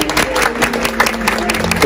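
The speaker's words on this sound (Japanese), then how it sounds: "皆様、温かい拍手でお迎えください。" Wedding guests applaud as a bride enters with her parents, steady broadband clapping from a crowd with a musical tone running underneath, fairly loud and continuous throughout.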